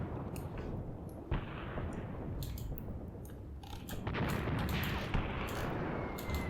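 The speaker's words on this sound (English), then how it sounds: "Where's this artillery landing?" Artillery shells land in the Graviteam Tactics video game, a series of faint, muffled booms and cracks scattered over a low rumbling battlefield background.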